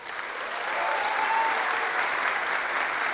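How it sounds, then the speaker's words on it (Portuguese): Audience at a national sugar beet seminar in Brazil giving a standing ovation, steady dense clapping that builds quickly and holds throughout. "Uma calorosa salva de palmas em pé do nosso Senab."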